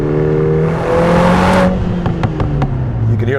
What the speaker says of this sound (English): You can hear those pops and crackles.